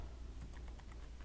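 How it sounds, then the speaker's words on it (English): Fingers type on a computer keyboard, producing a faint, quick patter of soft key clicks close by in a quiet room. "here I would go ahead and start typing"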